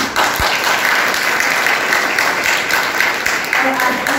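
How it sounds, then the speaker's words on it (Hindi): An audience claps steadily and densely at a Maha Shivaratri festival gathering, a loud continuous wash of applause that goes on throughout. "तो इस बात के लिए हम सभी को ताली बजाएं।"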